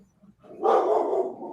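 A single dog bark, or a short rough burst, sounds at moderate distance and rises after a near-silent start, then fades slowly, with no talking over it.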